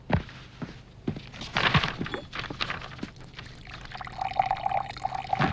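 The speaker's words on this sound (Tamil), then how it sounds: "வேலு, குடிக்க கொஞ்சம் தண்ணி கொண்டாப்பா." Drinking water is poured into a glass indoors in a scene from the Tamil film Kanagavel Kaaka, a rising splashing trickle after a few thunks and footsteps, with no one speaking.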